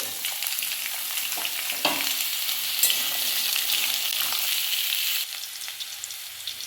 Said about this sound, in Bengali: আলুগুলো ভালো করে ভেজে নিয়েছি।